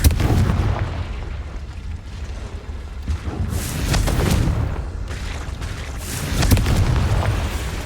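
In the Hogwarts Legacy cave, a Confringo fire curse goes off in heavy booming blasts, with loud bursts near 3.5, 4.2 and 6.5 seconds over rumbling game ambience. No one speaks.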